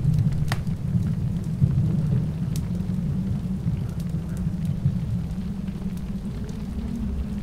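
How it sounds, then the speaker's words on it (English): Steady rain falls in the Secret Files Tunguska game, a constant close hiss over a deep rumbling thunder bed, with occasional sharp drop ticks and no voices. "It's raining cats and dogs."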